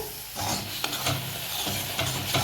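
Sugar syrup is stirred in a cooking pan, giving a soft, continuous scraping swirl with several brief knocks of the spoon against the metal, close by and without speech.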